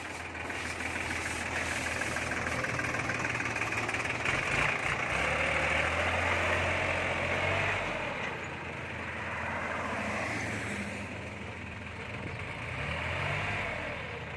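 A farm tractor engine idles and rumbles steadily during a test drive, a low, moderately close drone that rises and eases slightly as it moves.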